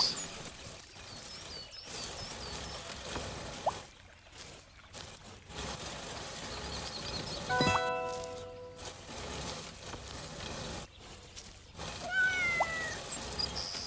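A cat meows in the video game Garden Simulator, a short tonal call with a few harmonics over busy game ambience and background noise, with another brief cry near the end.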